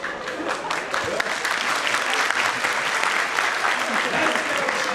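An audience in a hall applauds during a talk session with Turkish actor Ümit Erdim, a loud, dense burst of clapping that swells and holds steady for the whole stretch, with voices faintly mixed in.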